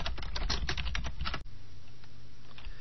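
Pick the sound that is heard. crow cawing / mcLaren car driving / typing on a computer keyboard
typing on a computer keyboard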